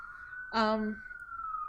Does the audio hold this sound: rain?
no